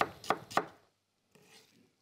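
Three sharp knife chops through an onion on a cutting board in quick, even rhythm, close up, followed by a quiet rustle.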